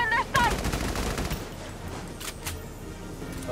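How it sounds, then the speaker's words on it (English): Bursts of machine-gun fire and single shots crackle in a Valkyria Chronicles 4 battle. A dense, loud volley comes early, then more scattered shots follow over background combat noise. "They're firing on us!"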